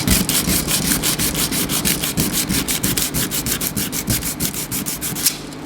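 A Dewalt tape measure blade scraped rapidly back and forth across 60 grit sandpaper, giving a steady run of about twenty-five harsh, evenly spaced rasping strokes, loud and close, with no voices.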